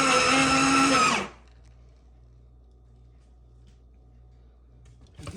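A new AMZCHEF slow juicer runs loud for about a second with a steady harmonic motor whine, pressing carrot and apple, then cuts off to near silence before a brief faint clatter at the end.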